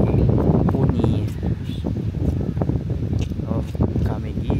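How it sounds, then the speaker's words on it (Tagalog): Wind buffeting the microphone on a breezy day in Camiguin, a rough, low rumble under continuous close talk. "Medyo mahangin nga lang."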